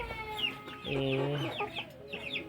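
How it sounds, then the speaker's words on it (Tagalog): Backyard free-range Plymouth Rock chickens clucking close by, a run of short, varied clucks and calls rising and falling in quick succession. "Yan po yung ating bird Plymouth Rock."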